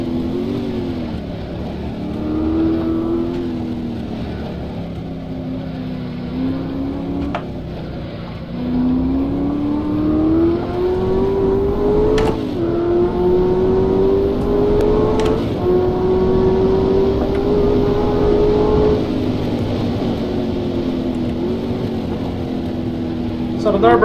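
A race car engine in the rFactor video game at the Nürburgring, speeding downhill as it winds up through the gears and holds a loud, steady high-revving drone, with someone talking over it throughout.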